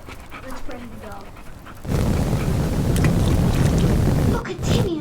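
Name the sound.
dog panting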